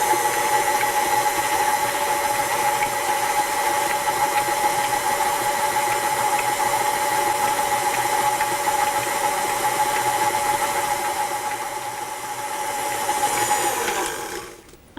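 An electric mixer at medium speed beats vanilla cake batter with a continuous, loud motor whir and churning that holds steady for the full stretch before cutting off at the end.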